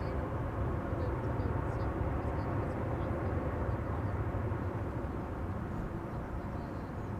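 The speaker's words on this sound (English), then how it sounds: "737-800 arriving from Paris, Charles de Gaulle." A Boeing 737-800 airliner arriving at Schiphol Airport from Paris gives a steady, broad, distant roar of jet engines, even in loudness throughout with no distinct events.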